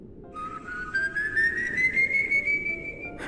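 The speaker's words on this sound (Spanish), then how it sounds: "Un silbido, largo, sutil, con una melodía imposible de describir." A single long whistled tone, slowly rising in pitch and held steadily for a few seconds, fairly soft over a breathy background.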